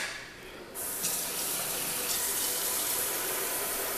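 Water from a kitchen tap starts abruptly and runs in a steady, close, continuous rush while being measured for protein pancake batter, with no talk over it.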